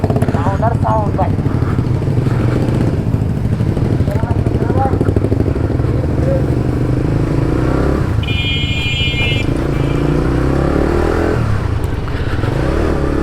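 Motorcycle engines on a morning ride, one bike fitted with a Scorpion aftermarket exhaust, rumbling and revving close by beneath ongoing talk, with wind buffeting and a brief high horn-like tone partway through.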